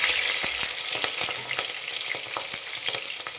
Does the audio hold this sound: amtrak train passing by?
no